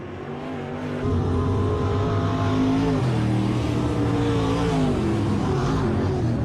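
Race cars roar under acceleration on the Lake of the Woods Speedway oval, a loud, sustained engine drone whose pitch climbs and shifts as the pack comes past, with no other sound on top.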